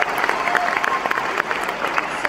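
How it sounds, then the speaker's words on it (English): An audience claps in a round of applause for honorees at an organization's event, a dense, steady patter of many hands close by that carries through the whole stretch. "Let's give them a round of applause."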